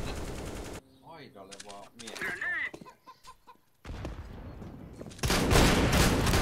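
Video game gunfire erupts in loud rapid bursts at the start and again at the end, and shouting voices fill the middle stretch.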